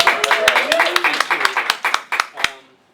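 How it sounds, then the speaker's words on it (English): A single person claps hands about a dozen times in an uneven rhythm at a 2013 toy convention panel, sharp close slaps over a continuous murmur of voices. "Ooh, a hand clap."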